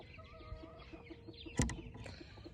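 Soft, low clucking from broody hens close by, a few murmured calls with a sharper squawk in the middle, against a quiet background.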